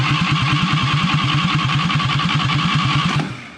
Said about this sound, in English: This is a little diesel engine. You can see by the pull starter